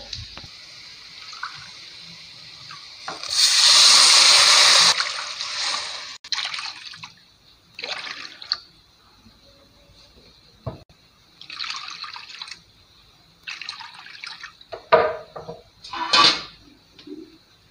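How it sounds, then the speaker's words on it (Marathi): Six bowls of water go into a pot for wheat semolina upma: one loud sustained pour near the start, then shorter intermittent splashes and trickles, close and without speech. "तर त्याच्यामध्ये मी 6 वाटी पाणी घालणार आहे"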